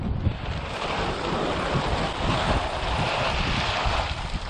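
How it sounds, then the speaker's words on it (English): Strong wind blows outdoors at a deck lumber bench build site, a continuous loud rushing roar buffeting the microphone with no pauses. "Yeah, it's windy out here."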